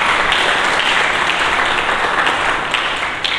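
A church congregation applauding during a Sunday service: dense, loud, continuous clapping from many hands filling the whole moment without a break.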